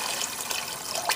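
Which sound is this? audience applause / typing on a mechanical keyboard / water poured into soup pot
water poured into soup pot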